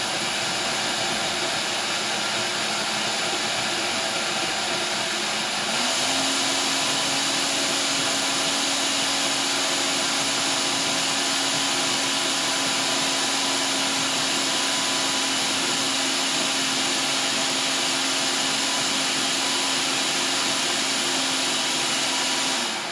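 Electric mixer working scone dough in a home kitchen, a steady loud motor whine and whir running continuously for over twenty seconds with a slight pitch shift partway, close to the microphone with no talking.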